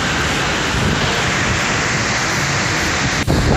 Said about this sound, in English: I just walk in behind the waterfall.